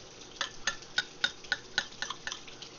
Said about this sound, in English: I want to descale them all.